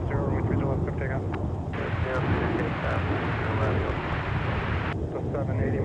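Jet airliner taking off from a runway at MSP airport, a steady loud engine roar that holds throughout, with a tower radio voice talking over it.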